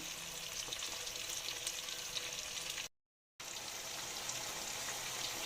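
Crushed chillies and tomatoes fry in hot ghee with a steady, dense sizzle that continues evenly, broken by one brief moment of silence, and nobody speaks.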